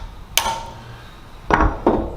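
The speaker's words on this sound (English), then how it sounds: "you can use a hammer with a wrench that fits nice and snug, add a little bit of a pressure" A hammer taps a snug-fitting wrench to crack loose the glued, threaded swivel cap of a high-RPM swivel. Three sharp metallic knocks sound close by, one alone and then a quick pair, over a low room hum.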